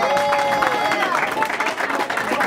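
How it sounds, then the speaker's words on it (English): A crowd applauds for Marshall Thompson with a few scattered claps and cheers, while voices carry on over the noise the whole time. "Another round of applause for Marshall Thompson"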